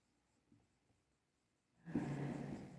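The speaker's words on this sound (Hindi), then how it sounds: "इसको लिख देता हूं मैं, इसको लिखता हूं मैं" Pen or chalk writing by hand during a physics lesson on electric charges, a soft scratchy burst starting near the end after a near-silent stretch, fairly close.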